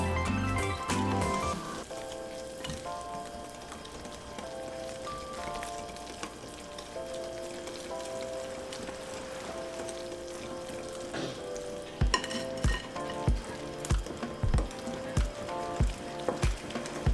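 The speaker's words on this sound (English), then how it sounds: "So now we're just gonna mix it all together, and I like to mix it for around 2 minutes" Buttermilk pancake batter is mixed in a bowl for a couple of minutes, a wet sloshing whisk with faint clinks, turning into sharp rhythmic taps against the bowl near the end, close up and with no talk.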